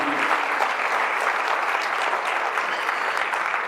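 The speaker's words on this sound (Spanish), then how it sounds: "Den un fuerte aplauso a Él, aleluya." A church congregation gives a steady, sustained round of applause during a Spanish-language worship service, a dense wash of many hands clapping at even loudness throughout, with no talking over it.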